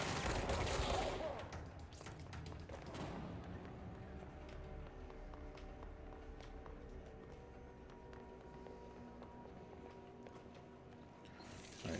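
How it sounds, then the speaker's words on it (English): Rapid bursts of video game gunfire crackle through a busy mix, loudest in the opening second and then settling into a steady low clatter of shots under the game's background sound. "We're being shot at as we speak."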